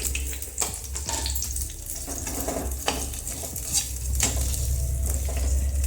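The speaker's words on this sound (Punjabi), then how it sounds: "ਇਸੇ ਤੇਲ ਦੇ ਵਿੱਚ ਹੁਣ ਮੈਂ ਪਿਆਜ਼ਾਂ ਨੂੰ ਤਲ ਲਵਾਂਗੀ" Onions frying in oil in a kadai, a steady close sizzle with occasional stirring scrapes and clinks, no talking.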